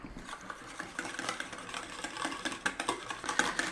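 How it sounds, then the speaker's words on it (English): Whisk beating Alabama white sauce in a bowl, a rapid, uneven run of close scraping and light clinks against the bowl, steady throughout. "Let's get it whisking."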